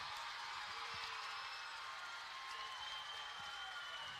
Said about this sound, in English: Off in the distance, you can hear the Clare crowd roar to life.